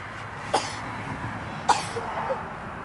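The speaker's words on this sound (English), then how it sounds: "I just sneezed, coughed" Two sharp coughs, about a second apart, close by, with a faint throat-clearing sound afterward.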